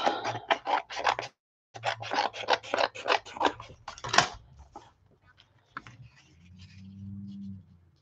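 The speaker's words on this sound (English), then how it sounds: "So I'm cutting just some of the edges off here." Scissors snip through the edges of painted papers and paint skins in a quick run of close, crisp cuts. After a short pause the cutting resumes, then gives way to softer rustling and a faint scrape.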